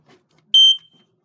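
A household smoke alarm gives one sharp, loud, high-pitched beep during a routine alarm test, preceded by a faint click and followed by quiet.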